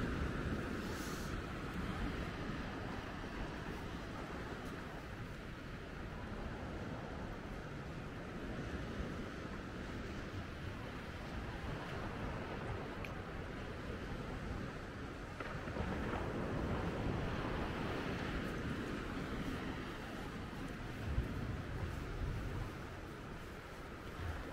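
Surf washing onto a beach at Charleston, a steady broad roar of breaking waves mixed with wind buffeting the microphone, continuous and fairly close throughout.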